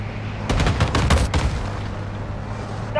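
Heavy vehicle-mounted gunfire in Modern Warfare 2 rattles out in a loud rapid burst of booming shots, then fades into lingering battlefield noise.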